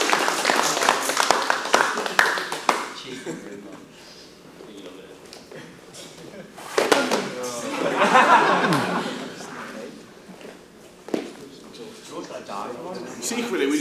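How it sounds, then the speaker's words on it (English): A round of applause for a jiu-jitsu belt promotion at a gym seminar: a burst of clapping at the start fades under chatter and chuckling, with talk and laughter carrying through the rest. "Give George a big round of applause for it."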